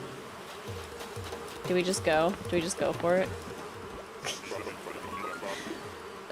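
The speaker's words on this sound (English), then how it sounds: "Oh, bees." Bees buzz steadily in a video game, a low insect drone that runs under a speaking voice.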